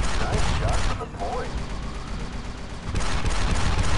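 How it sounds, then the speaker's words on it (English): Rapid pistol fire from Star Wars: Republic Commando, a dense stream of loud, close shots that drops off briefly around the second mark before resuming hard, mixed with game noise and a voice talking. "The pistol is really strong."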